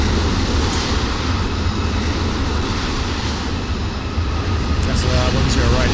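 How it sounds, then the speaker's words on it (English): JetBlue airliner jet engines roaring at takeoff in Microsoft Flight Simulator 2020, an A320 departing Fort Lauderdale: a steady, loud broadband rumble that holds throughout with a voice talking over it. "look at that JetBlue blasting off"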